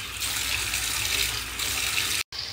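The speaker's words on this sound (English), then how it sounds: "You want to rinse it off with your water." Steady rush of water running from a tap, loud and close, cutting out for an instant near the end before resuming.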